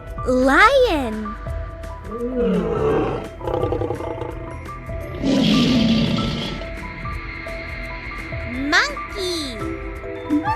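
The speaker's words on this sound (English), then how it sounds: "Lion." A lion roars in several loud, close bursts, with a harsh, rumbling main roar in the middle and shorter grunting calls around it.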